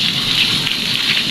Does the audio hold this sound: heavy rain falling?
yes